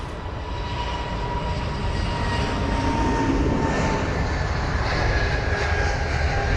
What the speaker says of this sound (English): We've got the BA 320 Neo heading to Dusseldorf, flight number BA 940